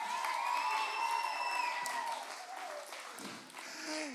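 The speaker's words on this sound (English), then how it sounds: "we better get a loud applause for my wife" Steady applause from a crowd at a premiere night fills the clip, with some cheering and whoops mixed in, loud and continuous throughout.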